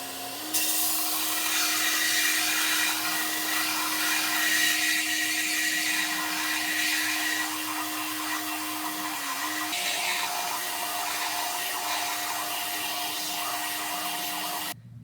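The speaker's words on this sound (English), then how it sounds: "as you got your belt sander on, you turn this on and you're spinning it all the way around so you have an even spike or an even point right" A belt sander grinds the tip of a nail spun in a drill to shape it into a spike, a loud steady high whine with a constant motor hum that holds nearly unbroken throughout.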